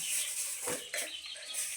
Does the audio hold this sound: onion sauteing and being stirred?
no